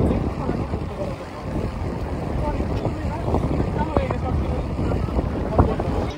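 Strong wind on the beach at Cox's Bazar roars and buffets the microphone in a steady loud rush, with faint voices in the background.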